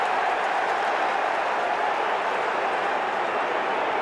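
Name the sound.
vocal Kangaroos supporters crowd at the MCG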